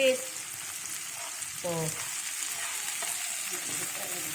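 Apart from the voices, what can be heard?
sliced tomatoes stir-fried with baby squid, sizzling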